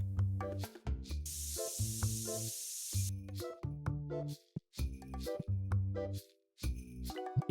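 Short hissing spray burst from an air freshener machine in a shop simulator game, heard about three seconds in among repeated tonal game sounds and chimes, with no talking.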